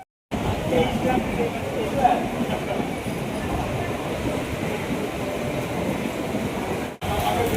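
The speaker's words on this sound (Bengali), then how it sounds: "চলো ট্রেন আসছে দেখে নাও" Train rumbling into a station on a Lalgola-bound line, a steady loud rolling clatter of wheels and carriages heard close, continuous with a brief cut near the end.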